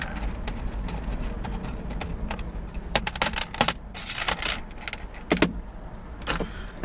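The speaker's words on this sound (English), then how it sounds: "Okay, keys." Keys jangle and clink in irregular bursts of sharp metallic rattles while a locksmith repairs the lock cylinder of a fire door, with handling noise between bursts.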